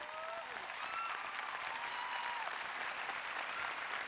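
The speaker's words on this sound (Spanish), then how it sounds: "Un aplauso para Mercedes Sosa," Sustained audience applause at the Latin Grammy 2009 ceremony, a dense, even wash of clapping with scattered cheers and whistles, faint and distant.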